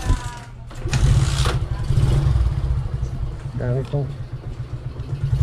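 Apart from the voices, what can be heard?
motorcycle being kick-started after stalling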